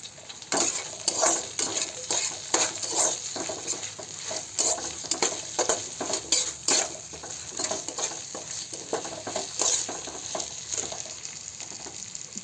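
Egg biryani masala with curry leaves and green chilies is stirred in a pan over a village cooking fire, a low sizzle under repeated close scraping and knocking strokes, no voices.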